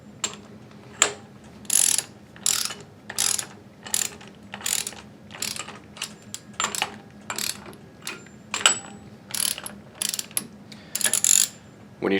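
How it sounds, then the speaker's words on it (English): A torque wrench fitted with a 1 1/8 deep socket ratchets in short bursts of rapid clicks, repeated about a dozen times with brief pauses between them, fairly close and with no voices. "grab your torque wrench and your 1 1/8 deep socket, and you're going to set your torque wrench to 80 foot-pounds"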